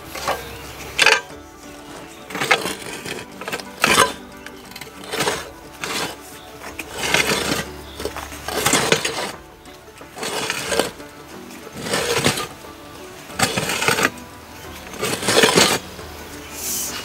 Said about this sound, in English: Here we go, drilling the well, no power tools.